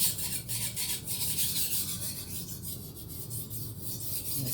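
A knife blade is stroked across a 600-grit whetstone to refine the bevel and remove the burr, giving a steady, close rasping scrape in continuous back-and-forth strokes with no talking.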